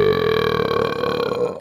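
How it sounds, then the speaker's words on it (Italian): A loud, long, rumbling burp that holds steady for over a second and fades slightly at the end, close and alone. "E poi a me piacciono i tuoi rutti, sono fortissimi."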